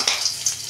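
Nigella seeds sizzle in hot oil in a pan after frying potatoes for a fish curry. The crackle is steady and close, with brief louder spits and no talking.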